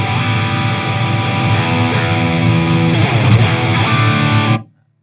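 Electric guitar run through a BOSS DS-1X distortion pedal, a loud, sustained saturated chord riff playing alone for about four and a half seconds before cutting off abruptly to silence.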